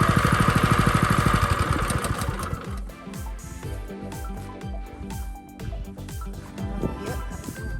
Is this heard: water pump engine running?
yes